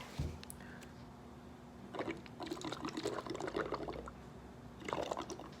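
Water trickles and splashes into a bubble mixture in quiet, uneven bursts, faint and close, with no voices.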